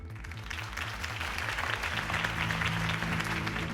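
A crowd applauds a campaign speech in the Batman Telltale game, sustained clapping from many people over a low rhythmic music bed, swelling slightly louder toward the end.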